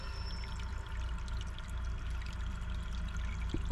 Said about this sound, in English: Can you hear that water?